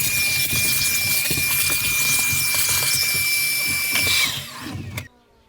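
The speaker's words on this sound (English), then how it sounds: "you can turn on and off the vac from the handle of the 40 volt miter saws" A Makita 40V dust extractor vacuum, switched on from the handle of a 40V miter saw, roars steadily and loudly nearby with a high whine, then winds down and cuts off near the end.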